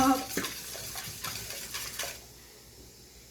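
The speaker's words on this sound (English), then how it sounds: "We're finishing whisking this up." A kid whisks ingredients in a bowl, quick scraping and tapping strokes repeating for a couple of seconds before fading to quiet.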